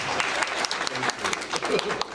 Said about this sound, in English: Let's clap for Marvin.